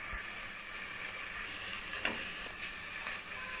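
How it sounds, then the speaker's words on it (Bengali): Mutton being stirred with tomato paste and chili powder in a hot pan, a steady close sizzle with faint scraping throughout, no voices. "নেড়ে চেড়ে আবারও খুব ভালো করে মিশিয়ে নিচ্ছি।"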